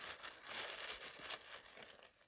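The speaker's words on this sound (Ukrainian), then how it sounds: "Беремо пакетик з м'ячиком, пакетик треба повернути." Soft, close crinkling of a thin plastic bag holding a ball, handled in short rustling bursts for a couple of seconds with no talking.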